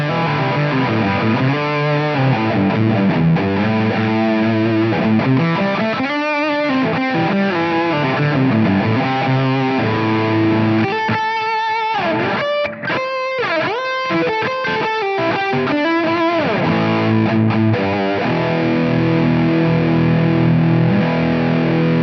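Heavily distorted electric guitar through a Line 6 Helix modeling a Mandarin Rocker amp, playing chords and riffs, thick and bassy with a processed amp tone, loud and continuous with no talking.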